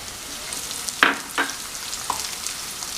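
Onions sauté in a pan for a Kerala prawn roast. A soft, steady sizzle runs throughout, broken by a few brief scraping strokes of a spoon during stirring.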